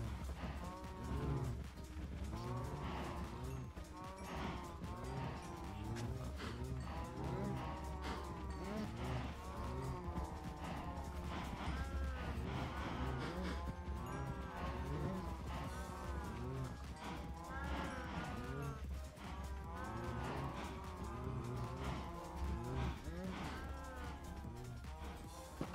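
Minecraft cattle moo repeatedly in overlapping game calls, steady and continuous over a low background hum, with no talk.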